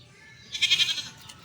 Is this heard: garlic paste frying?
no